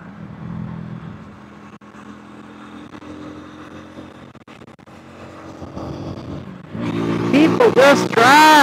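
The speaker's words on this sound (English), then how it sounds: "God, this traffic is horrible." Heavy road traffic of cars and motorcycles drones low and steady under a speaking voice, then engines rev sharply and loudly close by near the end.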